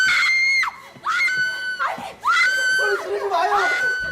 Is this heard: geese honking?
no